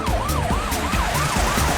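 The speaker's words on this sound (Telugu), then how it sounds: "అదిగో చూడండి అంబులెన్స్," Cartoon ambulance siren wailing in a steady rising-and-falling cycle, loud and close, with a vehicle engine rumbling underneath and no talking.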